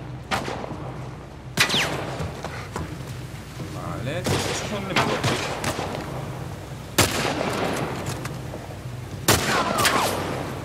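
Gunshots ring out during PS5 combat in The Last of Us Remake, several sharp, loud reports spaced a few seconds apart, while a player talks over the action.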